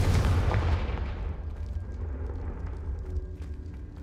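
A Confringo fire spell from Hogwarts Legacy detonates in one loud, booming blast, then trails off into a long, rumbling decay with faint crackles.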